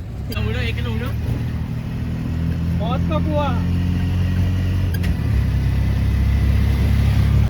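An auto rickshaw riding along a road, its engine droning steadily and loudly at close range with a rumbling low hum, while someone talks over the engine in the first half.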